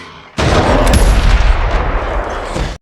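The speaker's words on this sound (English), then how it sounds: "As Blake is about to attack, Charlotte is forced to shoot him." A single loud gunshot in a film scene cracks out abruptly after a moment of quiet, followed by a booming, rumbling reverberation that lingers and slowly decays.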